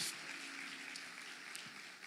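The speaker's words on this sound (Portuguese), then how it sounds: "Vamos aplaudir Jesus, que participação linda que você teve" A church congregation applauding during a sermon, a faint, steady patter of clapping heard from a distance for a couple of seconds.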